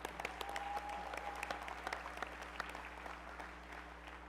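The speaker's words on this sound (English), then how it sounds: "Give them a round of applause." Crowd applauding the 2019 graduating class at a Mercer County College commencement ceremony, a steady patter of clapping heard faintly and from a distance in a large hall, with no talk.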